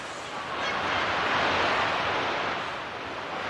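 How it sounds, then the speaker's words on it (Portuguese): Sea waves crash in a sound effect for a church stage skit about rowing out to sea: a broad roaring surge that builds, peaks and recedes like one breaking wave, loud and unaccompanied by speech. "Barulho de mar, barulho de mar."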